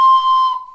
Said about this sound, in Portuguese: Mesma coisa desse apito. Esse apito ele é tão curioso que ele nem produz o som de um apito convencional